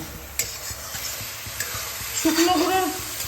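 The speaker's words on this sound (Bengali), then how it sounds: "শুকনো মশলার পেস্টগুলো এর মধ্যে ভালোভাবে কষিয়ে নেওয়া হয়েছে।" Spice paste being sautéed in a pan for a hilsa fish curry, with steady sizzling and repeated scraping stirs, and a louder frying burst toward the end.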